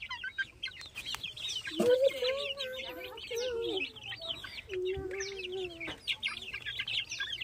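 Sonali chickens, 35 days old, cluck and call in a farm shed, several birds overlapping with short clucks and a few drawn-out calls over a low background hum.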